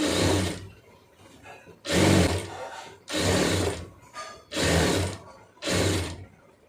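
A sewing machine stitches a blouse seam in five loud bursts of running, each about a second long, separated by short pauses with a quieter mechanical hum between them.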